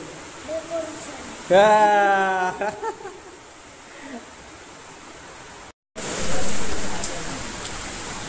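Steady broadband hiss of rain falling throughout, with a brief voice rising over it early on and a momentary dropout near the end.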